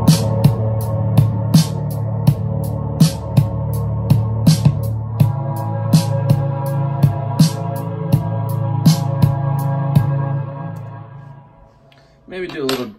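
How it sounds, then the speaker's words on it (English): Sampled drums play a steady beat in GarageBand, with punchy kicks and crisp hi-hat or snare hits over a sustained synth bed, then a short break near the end before the beat returns. "Next, I'll go in for some drums."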